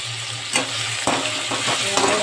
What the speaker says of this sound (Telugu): ఆవాలు జీలకర్ర రెండు వేస్తున్నాను